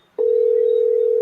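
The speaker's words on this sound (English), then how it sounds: "Devon, answer your phone, Devon." A telephone call tone sounds as a single loud, steady electronic pitch that starts suddenly after a brief silence and holds unbroken.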